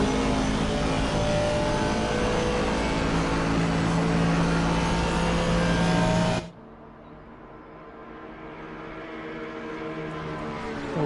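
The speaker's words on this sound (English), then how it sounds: "Listen to that Aston's engine." A sustained Aston Martin race car engine roars loud and steady in a racing video game at Bathurst, then cuts abruptly to a quieter, lower drone that slowly builds again.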